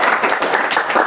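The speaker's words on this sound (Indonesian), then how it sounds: "Oh, tepuk tangan dong pemirsa." Several hands clap close by in a quick, slightly uneven burst during a student podcast recording, short and fairly loud with no talk over it.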